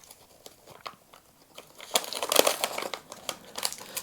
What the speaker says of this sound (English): Let's just take this paper top off very carefully.